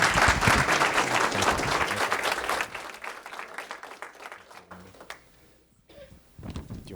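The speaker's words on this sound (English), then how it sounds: "Let's give him a round of applause." Loud round of applause from a council meeting audience greeting a judge about to be sworn in, dense clapping for about three seconds before thinning out and fading, with a voice briefly speaking at the end.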